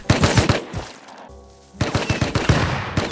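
Rapid automatic gunfire in the survival game Rust crackles in loud close bursts, breaking off for a moment into a hum before the shots resume just as fast.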